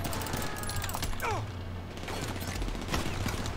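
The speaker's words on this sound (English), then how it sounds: "I'm getting, like, shot to bits here" Rapid gunfire rattles through a GTA Online super yacht mission, Icebreaker, from the Los Santos Summer Special, as a dense, continuous crackle of shots at moderate level, with a few brief whistling tones overhead.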